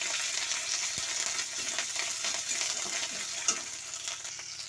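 Continuous close-up frying hiss of ginger paste in a wok with spices and tomato, punctuated by occasional clinks and scrapes as the mixture is stirred.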